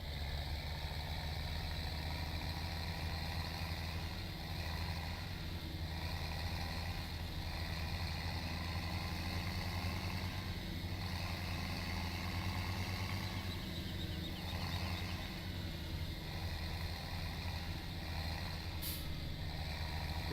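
Tractor engine running in Landwirtschafts Simulator 17, a steady low droning idle with a constant hum that holds evenly throughout, no voices.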